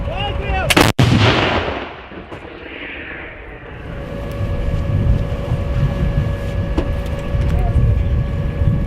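A single loud, sharp artillery blast cracks out near the start, followed by a rumbling echo and wind noise with faint voices.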